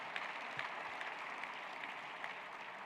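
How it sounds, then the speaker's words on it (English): Audience applause for sponsors and students at a Detroit event, a steady wash of clapping filling the whole stretch at moderate level with no voices over it. "Now we can give the sponsors and students a round of applause."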